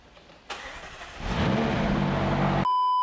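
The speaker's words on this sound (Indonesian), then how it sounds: "Kita akan dengerin mesin 3800 V8 Twin Turbo." A McLaren's 3.8-litre twin-turbo V8 cranks and catches with a sharp bark, then settles into a loud, rising growl that holds steady at close range before stopping abruptly.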